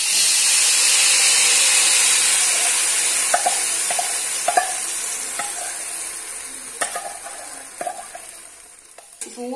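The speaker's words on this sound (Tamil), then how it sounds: "இப்ப பலாப்பழத்தை அரைச்சு வச்சதை இதில் ஊத்திடலாம்." Ground jackfruit paste for halwa poured into hot ghee in a kadai, a loud steady sizzling hiss that slowly fades, then scattered spoon clinks and scrapes against the pan, with no voices.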